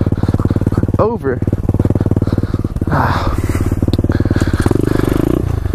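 A pit bike's motorcycle engine runs steadily while riding, loud and close with a buzzing, rhythmic drone that rises slightly toward the end, and a rider talks briefly over it.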